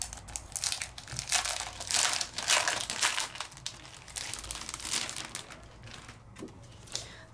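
Packaged 12 by 12 scrapbook paper being unwrapped from its plastic sleeve, a run of close, bright crinkling and crumpling with brief tearing bursts, fairly loud and continuous, no talk.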